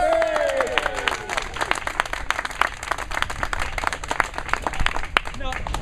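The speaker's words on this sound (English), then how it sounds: "Give her a round of applause." A room full of people at a Toastmasters meeting applauds steadily, a dense patter of hand claps with a murmur of voices under it.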